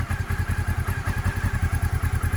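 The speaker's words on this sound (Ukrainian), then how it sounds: "От зараз саме краще треба слухати корзину." A Honda CB500S motorcycle engine idles at low revs with an even, rapid pulsing beat and a faint metallic clutch-basket rattle riding on top, close and steady throughout.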